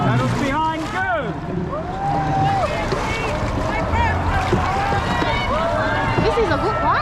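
A dragon boat crew racing at the Sydney Lunar New Year regatta, paddles churning water amid wind buffeting, many voices shouting and calling over the steady splashing and rushing noise.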